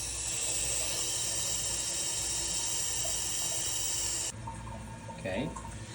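Water runs steadily from the supply into a newly installed bidet toilet seat as it fills, a continuous close hiss that drops to a quieter flow near the end, with a brief clunk.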